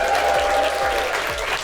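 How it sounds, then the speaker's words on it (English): A live studio audience claps and cheers together in a dense, steady burst of applause, with no speech over it. "So give Skoda a big, massive cheer."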